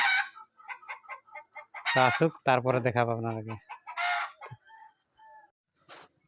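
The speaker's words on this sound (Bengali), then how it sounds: "এই যে ফুলিটা আর মুরগি কটাস কটাস করছে" Chickens clucking and a rooster crowing loudly nearby in a rural yard, bursts of repeated clucks rising into a drawn-out crow, with a person speaking briefly in between.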